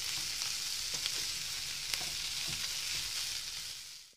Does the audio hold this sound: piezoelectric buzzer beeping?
no